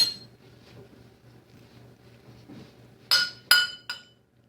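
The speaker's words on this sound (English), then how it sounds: "Tap, tap, tapping his spoon on the bowl." A spoon taps on a bowl in a home kitchen while guacamole is being made, three bright ringing clinks close by near the end, after a stretch of quiet low hum.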